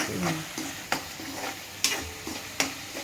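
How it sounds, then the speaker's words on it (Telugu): Fish curry sizzles in hot oil in a pan, with a steady frying hiss broken by several sharp scrapes and clacks of a spoon stirring at irregular intervals, close and fairly loud, with no talking. "కూర పచ్చివాసన అంతా పోయే వరకు ఫ్రై చేసుకోవాలి మనం"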